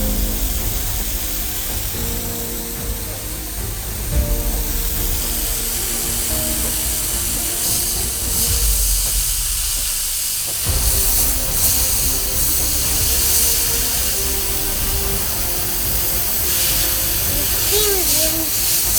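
A steam cleaner hisses fiercely while cleaning jewelry, a loud, airy spray that holds steadily with brief surges and dips, and a voice talks over it.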